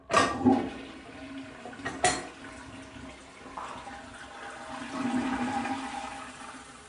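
A 1950s deco-style toilet is flushed with its lever: a sharp handle clunk, then a second knock, followed by a steady gushing rush of water that swells again toward the end.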